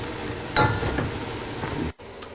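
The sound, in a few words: onions and garlic cooking in butter and oil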